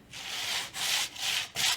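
Hand sanding paper over a stencil and collage papers: four rough, scratchy strokes in a steady back-and-forth rhythm, close and fairly loud, with short pauses between passes.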